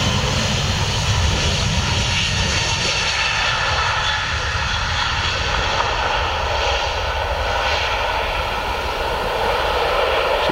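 A jet airliner takes off from runway 25 at Luton Airport, its engines producing a steady, loud, broad roar that holds for the whole stretch with no pause.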